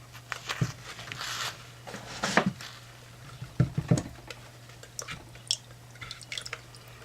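Melted hard oils and butters for sandalwood soap are poured into a container, giving scattered drips, splashes and wet patters that come in short bursts with quiet gaps, close by, over a faint steady hum.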